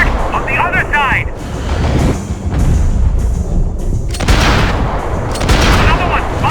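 A Max Payne 3 firefight: loud, dense gunfire and booming shots in a steady barrage, with game characters shouting over the shooting at the start and near the end.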